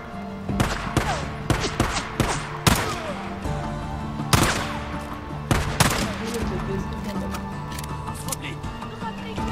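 Pistol gunfire in the video game Days Gone: repeated loud, sharp shots in irregular bursts over a steady background of game sound and music, with a voice talking in between.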